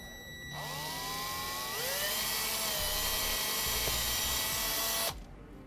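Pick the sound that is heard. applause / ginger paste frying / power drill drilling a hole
power drill drilling a hole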